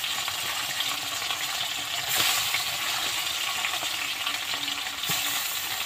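Small rohu fish frying in hot oil in a Bengali home kitchen give a loud, steady, crackling sizzle that runs unbroken throughout, with two brief sharper spatters standing out.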